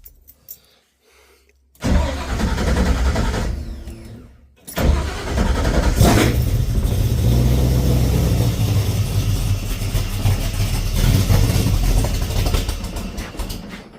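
A Ford Falcon XB with EFI cranks on a cold start: quiet at first, then the starter whirs and the engine catches briefly, cuts out, and cranks again into a steady rough running rumble close by.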